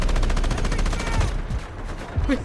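Continuous automatic gunfire in the Delta Force video game, a rapid, evenly spaced burst of shots that runs close and loud before breaking off into a short tail of softer in-game noise.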